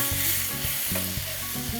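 Vegetables including onion frying in a pan, a steady close hissing sizzle with light intermittent stirring scrapes, no talking.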